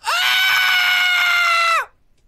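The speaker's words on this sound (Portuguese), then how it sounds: "o nosso personagem só sabe gritar" A single long, loud, piercing shriek from a child at school recess holds steady for nearly two seconds and then cuts off into silence.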